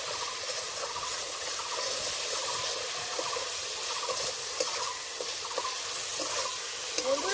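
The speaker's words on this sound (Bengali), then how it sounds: "ভালো করে মশলাটা কষে নেবে" Masala paste fries in oil for a prawn curry with potato and brinjal, giving a continuous crackling sizzle and faint spatula scraping at an even level throughout, with no speech.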